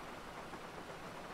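Steady, dense rain hisses without letup, a broad even wash of drops with no clear single impacts and no speech.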